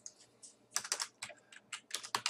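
Notes being typed on a computer keyboard: quick, close clusters of key clicks in uneven bursts with short pauses, fairly quiet and alone.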